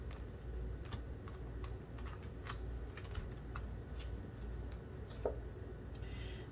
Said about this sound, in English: Really shuffling this deck quickly.